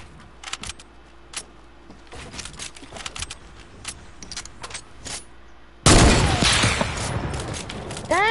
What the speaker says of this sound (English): Dang, bro, quit shooting at me.